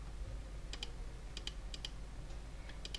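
Computer keyboard keys pressed for shortcuts while modeling in CATIA: sparse, crisp pairs of clicks recur a few times over a low steady hum, close and fairly quiet.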